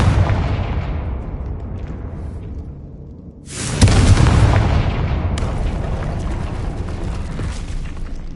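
A Confringo spell explodes in Hogwarts Legacy with a deep booming blast that rumbles away, followed by a second loud explosion that swells and lingers with a heavy rumble.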